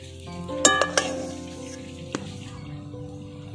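Jaggery melts in a hot kadai while a spoon stirs it, with a few sharp metal clinks at the start over a soft, continuous sizzle.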